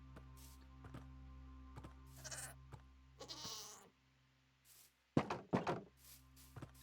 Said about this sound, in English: This is an angry, angry baby goat.